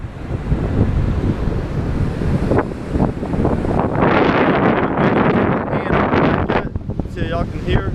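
Wind gusts buffet the microphone beside the ocean ahead of Hurricane Matthew, a steady loud roar with surf washing in underneath and brief talk near the end.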